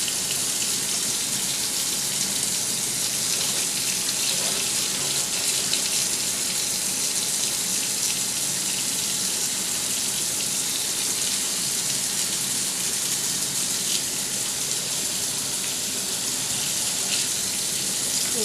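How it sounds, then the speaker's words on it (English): Water runs steadily from a tap in a continuous close splashing rush, with no pause throughout. "I'm going to take my Lego board and run it under the water,"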